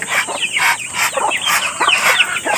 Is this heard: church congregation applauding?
no